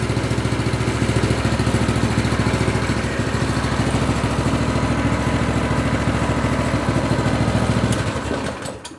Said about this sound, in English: That's a good running engine.